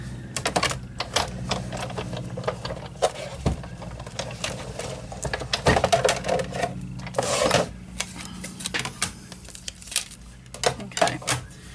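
A sewing machine stitches fabric hillsides onto a card, giving a close, rapid mechanical whirring and clatter in short runs broken by brief pauses.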